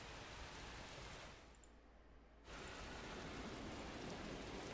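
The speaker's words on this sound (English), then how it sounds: "now that it's raining" Steady rain pours down in a video game, a dense hiss that dips briefly for about a second before returning at full strength.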